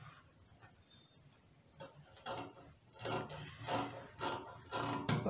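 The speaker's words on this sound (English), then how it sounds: "this part now, we're going to cut like this, with something like a slight curve" Scissors cut fabric along a slight curve in soft, close snips and rasping slides, quiet at first and then louder and more regular, with no speech.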